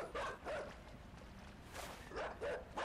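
Dog barking as it gives chase in the video game Inside, several short barks in two bursts separated by a pause, fairly clear over a dim game background.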